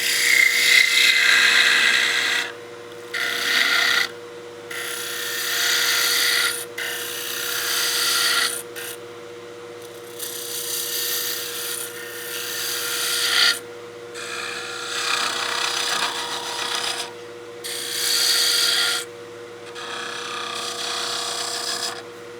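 A woodturning tool rides the bevel on wood spinning on a lathe while turning a snowman oil candle, giving loud rasping cuts in repeated passes of a few seconds each over a steady motor hum.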